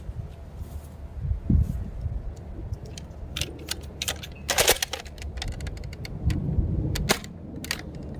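A Nerf shotgun with a break-open barrel fires both barrels, giving a couple of sharp pops with a mechanical clack around the middle, heard over low room noise.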